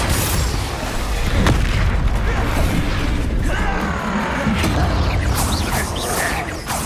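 Explosive Confringo spell blasts in the video game Hogwarts Legacy: loud booming bursts with crackling debris over a dense, continuous battle din, a sharp hit near the start and more swells later.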